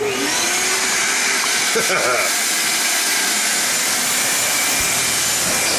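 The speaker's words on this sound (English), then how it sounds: "the real fun of sicking an exhaust vacuum on a computer" An exhaust vacuum blows dust out of a computer, giving a loud, steady broadband rush and hiss that fills the whole stretch without letup, with brief shifts in tone as the nozzle moves.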